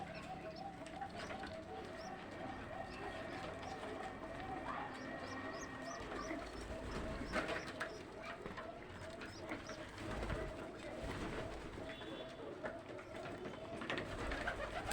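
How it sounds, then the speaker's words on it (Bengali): Black Arabian koka pigeons coo in a steady, repeating pulse while a mother feeds her two chicks, with faint chirps and low background rumble throughout. "দেখতে পাচ্ছেন মা এসে বাচ্চাকে খাওয়াচ্ছে। এটা হচ্ছে অ্যারাবিয়ান কালো কোকা।"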